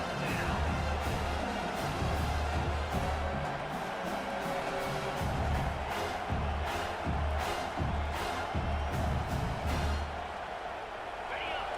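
A large stadium crowd at a Michigan State vs South Carolina college football game roars steadily and loudly, its noise sustained throughout while a commentator talks over it.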